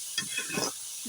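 Banana stem stir-fried in oil in a pan, a brief faint sizzle with a few soft scrapes as the pieces are turned.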